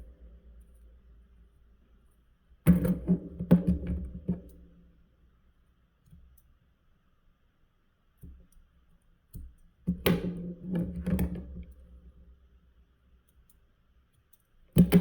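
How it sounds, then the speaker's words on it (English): Scissors snip off excess material while a witch's broom is being made, in two short clusters of close, crisp cutting and rustling clicks separated by quiet. "What doesn't, I snip off."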